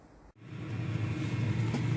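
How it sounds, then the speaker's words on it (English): A truck's hydronic diesel heater running steadily, a low, continuous whirring hum that swells up after a brief dip and holds at a moderate, even level. "that's the sweet sound of heat. Hydronic heating system."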